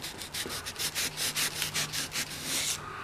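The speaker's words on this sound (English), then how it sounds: "I'm going to hit it with some sandpaper." Sandpaper rubbed back and forth over painted metal on a DIY vintage steampunk knife switch, a close series of quick, even rasping strokes, about a dozen in a row.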